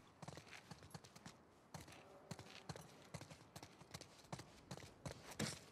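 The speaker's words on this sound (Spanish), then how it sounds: "A los caballos. Los caballos." Horse hooves clip-clopping in The Last of Us Part II, a steady rhythmic walk of clear hoof strikes, fairly close, with a brief snort or whinny near the end.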